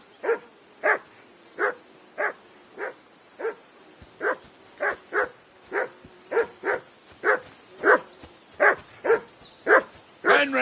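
A dog in a video game barks in a steady series of about sixteen sharp, evenly spaced barks, loud and close, over a quiet ambient background.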